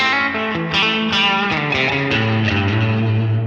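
An electric guitar runs through a Line 6 Helix reverb with low and high cut, playing a short phrase of notes that ring and blend into a washy, sustained tail.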